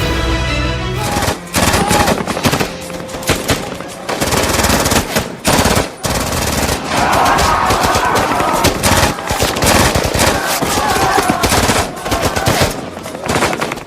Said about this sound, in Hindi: मारे गए आतंकी के साथी हवा में ताबड़तोड़ गोलियां चलाते थे।